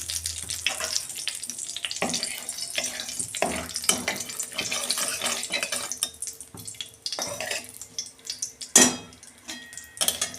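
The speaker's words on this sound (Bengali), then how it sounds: "এই যে মাছটা করার জন্য আমি ফোড়ন দিচ্ছি, তেজপাতা, ডালচিনি আর এলাচ।" Whole bay leaf, cinnamon and cardamom crackle and spit in hot oil for a fish curry, a dense broadband sizzle with scattered pops and one sharp clatter near the end, close and steady throughout.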